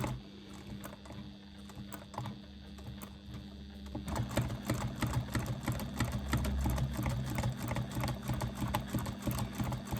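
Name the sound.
sewing machine doing free motion quilting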